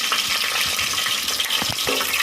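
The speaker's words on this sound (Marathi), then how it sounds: "तेल गरम झालेला आहे, खडा मसाला घालत आहे। तमालपत्र घातलेलं आहे, चक्रीय फूल, लवंगा आणि काळे मिरी घालत आहे।" Whole spices (bay leaf, star anise, cloves and black pepper) crackle and sizzle in hot oil, a dense close frying hiss with small pops throughout, no voices.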